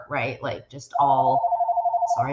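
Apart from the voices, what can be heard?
phone ringing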